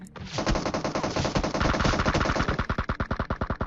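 Automatic gunfire in the PUBG Mobile video game, a long rapid burst of sharp, evenly spaced shots that rattles on for several seconds, the spacing widening slightly toward the end.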